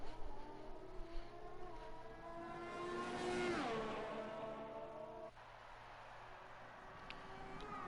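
A Renault Formula 1 car in a racing video game sweeps through a run of S-bend corners, its engine note rising and falling with a doppler-like pass midway before settling into a steady, fainter drone.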